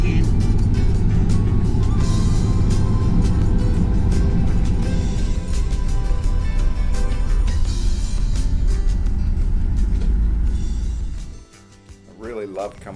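A vehicle rolls to a stop at Eucla Pass in outback Australia, loud steady road and engine noise running for about eleven seconds before dropping away, then faint ambient sound.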